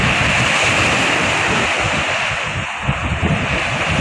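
Continuous wash of big ocean waves rolling in on Manila Bay, with wind noise rumbling across the microphone throughout.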